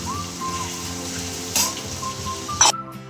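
Tomato paste with ghee sizzles steadily in a pan for a Gujarati brinjal and vadi curry, with a spoon stirring and clinking against the metal and a sharper scrape near the end.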